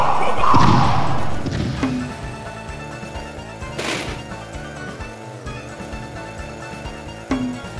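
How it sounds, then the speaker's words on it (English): Freeze bomb weapon effect in the Cro-Mag Rally racing game, a soft thud and crash burst near the start, then a faint whoosh under steady game noise. "Freeze bomb!"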